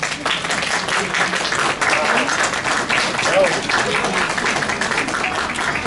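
An audience applauding the evening's hostess at an opening of new premises, a sustained wash of clapping from a room full of people that carries on evenly throughout.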